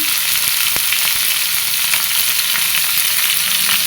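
Ridge gourd and potatoes fry in hot oil for a fish curry, giving a loud, continuous sizzle with occasional sharp pops and stirring clatter, close up and with no talking.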